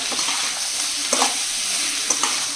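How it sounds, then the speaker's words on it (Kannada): Black pepper, mint and coriander leaves frying in a pan for mutton kaima, a steady low sizzle with a few soft stirring scrapes, close and fairly quiet. "ಪುದೀನ ಕೊತ್ತಂಬರಿ ಸೊಪ್ಪು ಹಾಕ್ತಾ ಇದ್ದೀನಿ ಹಾಕು ಚೆನ್ನಾಗಿ ಫ್ರೈ ಮಾಡ್ಕೊಳ್ಳೋಣ ಈ ಥರ"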